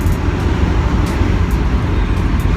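Car engine fitted with a new exhaust and 40 series Flowmaster mufflers, a steady deep low rumble droning close and loud throughout, with broad road noise layered over it.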